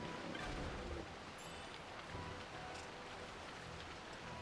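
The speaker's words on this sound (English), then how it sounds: "It just sounded like the rain was going way faster" Steady rainfall in a Final Fantasy video game, a dense, even hiss of drops pattering on surfaces that continues unbroken at moderate level, with no voices.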